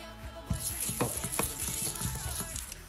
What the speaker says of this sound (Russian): По классике сковородку смазываем картошкой.